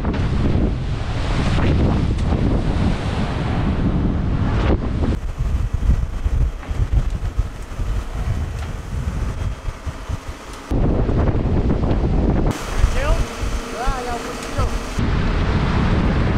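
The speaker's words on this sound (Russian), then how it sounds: "Ближе к вечеру ветер усилился и пошла сильная волна." Strong wind roars across the microphone aboard a sailing yacht between Marmaris and Rhodes, with the rush of heavy waves at sea, loud and continuous with shifting gusts.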